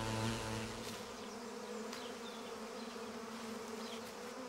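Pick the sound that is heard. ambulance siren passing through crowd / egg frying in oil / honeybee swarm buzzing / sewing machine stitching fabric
honeybee swarm buzzing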